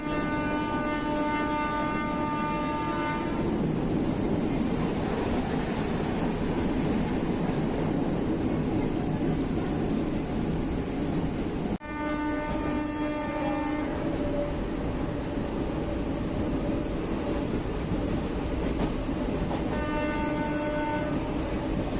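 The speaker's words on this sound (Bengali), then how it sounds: "তারপর টিকিট কেটে চড়লাম ট্রেনে গন্তব্যের উদ্দেশ্যে।" A train rumbles along steadily at close range, with a long horn blast sounding at the start and again later. The rolling wagon noise continues throughout.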